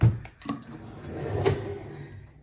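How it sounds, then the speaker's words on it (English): A refrigerator drawer in a hotel room opens or closes with a soft wooden thud and slide, two short knocks close by in a quiet room. "And here's the refrigerator, which is a refrigerator drawer."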